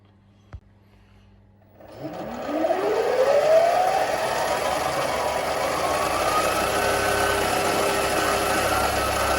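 A mini metal lathe starts after a brief click and near silence, its motor whine sweeping upward over about two seconds before settling into a loud, steady running hum.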